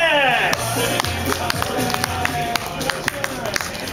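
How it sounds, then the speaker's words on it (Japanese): Scattered, unhurried clapping from a crowd at a performer stage event at a Rakuten Eagles baseball stadium, with sharp individual claps over a steady background of murmuring and noise. "かなりまったりとした拍手が起きましたね"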